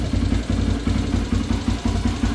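A Yamaha YFZ450 ATV engine idles roughly while nearly out of fuel, a close, uneven low chugging with rhythmic pulses that lurch and stumble, and no voices.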